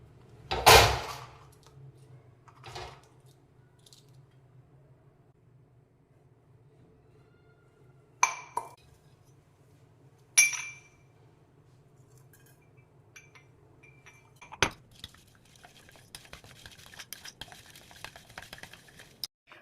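Pots and metal vessels clink and clatter in a kitchen as someone searches for a big vessel: a loud clang at the start, then a few scattered knocks and rattles separated by quiet stretches, with busier clinking near the end.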